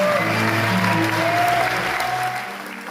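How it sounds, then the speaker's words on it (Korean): A film premiere audience gives a standing ovation for a new Park Chan-wook film as the end credits roll, with loud, dense clapping and some crowd noise that tapers slightly near the end. "영화가 끝나고 엔딩 크레딧이 올라가는 내내 객석에선 기립박수와 환호성이 쏟아졌습니다."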